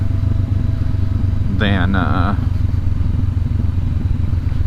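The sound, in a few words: Honda CB500X motorcycle engine braking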